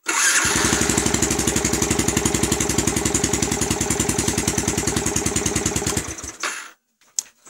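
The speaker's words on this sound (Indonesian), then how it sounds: "sekarang kita nyalakan motornya" A Yamaha Vixion motorcycle, just fitted with a new spark plug, starts and idles loudly nearby with a rapid, even chugging pulse for about six seconds before cutting off, followed by a few faint clicks.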